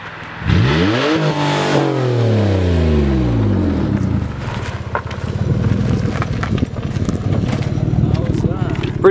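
A Chevy V6 car doing a burnout: the engine revs hard in sweeping rising and falling surges, then settles into a sustained rough, loud roar close by.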